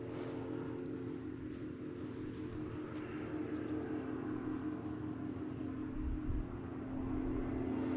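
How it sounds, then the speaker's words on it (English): An aeroplane drones overhead above open countryside by a farm and burn, a steady, faint tonal hum that holds throughout and swells slightly toward the end. "Aeroplane's coming back."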